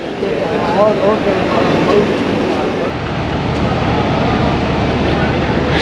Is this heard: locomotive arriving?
yes